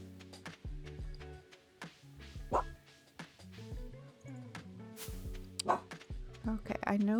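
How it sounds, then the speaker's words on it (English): A pet dog vocalizing in the background with low growls, yips and whimpers, faint against game music, while a person talks over it. "Sorry if you can hear my dog growling in the background"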